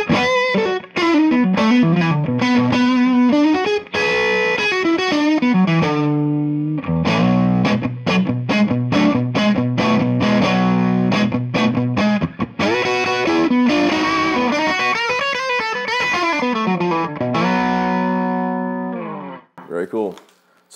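An El Guapo guitar amp's low-gain channel with boost off plays electric guitar riffs and chords with a light crunch, sustained strums mixed with choppy notes, loud and close, ending abruptly.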